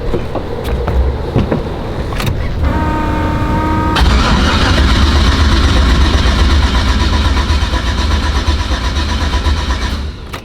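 Car engine fitted with Holley EFI cranks for a few seconds, whining and rattling, then catches and settles into a loud, steady idle, recorded close with no talking.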